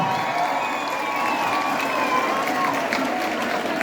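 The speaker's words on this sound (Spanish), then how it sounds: "¡Grande, grande, grande ese aplauso!" Steady applause and crowd noise fill a hall at a women's community event in Funza, Cundinamarca, a continuous wash of clapping at moderate level.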